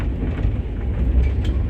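The Darjeeling Mail runs from New Jalpaiguri to Sealdah, heard from inside a first-class coupe as a steady, loud, low rumble with faint rhythmic wheel clatter.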